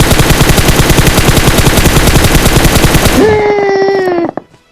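Rapid, loud automatic gunfire in the video game PUBG, a dense unbroken burst for about three seconds that stops abruptly, followed by a ringing tonal game effect that fades out.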